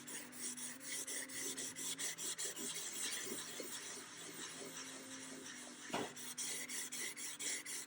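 Painted binding along a guitar edge sanded smooth, a close rasping scrape repeated in rapid, even back-and-forth strokes, steady and quiet with a brief knock near the end.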